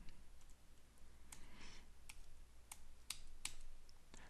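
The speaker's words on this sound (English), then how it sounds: "It's a little awkward typing all that at the command line" Quiet typing on a computer keyboard at a command line: a handful of sparse, faint keystroke clicks at an uneven pace over low background hiss.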